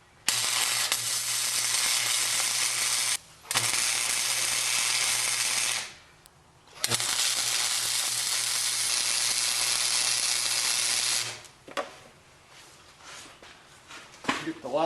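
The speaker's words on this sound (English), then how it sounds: "weld the letters or the word to this little backer plate" Plug welds join metal letters to a small metal backer plate for a backyard firepit, with two long, loud, close crackling hisses separated by a short gap and a voice heard briefly.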